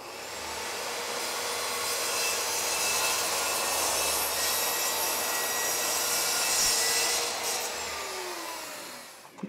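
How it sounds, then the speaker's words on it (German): Steady, loud saw cutting a piece of material off for an electric-motor race car build, a dense rasping roar running almost the whole time with no talk. "Dann schneiden wir uns da jetzt mal ein Stück hier runter."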